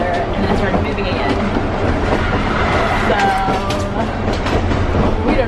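A passenger train travelling to Romania rumbles along the rails with a loud, continuous roar and faint rhythmic clatter, with muffled voices mixed into the constant noise.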